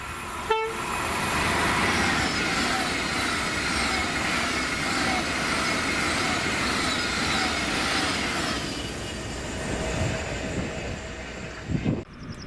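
A white Pendolino Class 390 passenger train, 390129 on a Glasgow Central to London Euston service, roars past close by with a loud, sustained rush and rumble, then fades away near the end.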